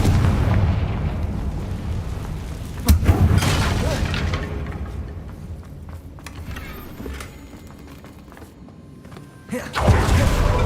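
Confringo blast spell explosions in Hogwarts Legacy on PC: two sharp, booming bursts, one near three seconds in and another near the end, each followed by a rumbling tail over low background ambience.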